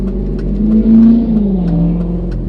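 A BMW E39 car engine revs up close by after an engine misfire repair, its pitch climbing in one strong surge and then easing back to a steady rumble.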